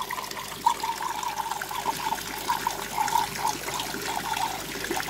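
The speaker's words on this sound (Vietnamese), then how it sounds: "Có một cái điều bất tiện khi mình trữ chuồng chỉ theo cách này là rất là ồn, giống như ở suối, giống như ở thác nước vậy đó" Water runs and splashes continuously through a home tubifex worm storage tank, a noisy, close trickling with small bubbly pulses throughout.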